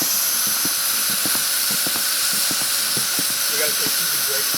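A pressure cooker boiling peanuts on a camp grill by a river gives off a continuous high-pitched steam hiss, with a few faint taps and some talking underneath.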